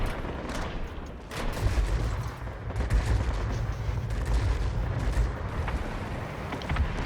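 Ki-93 heavy fighter firing its 20mm cannons in World of Warplanes, a continuous rattling stream of rapid gunfire bursts over a low engine roar, loud and sustained for about seven seconds.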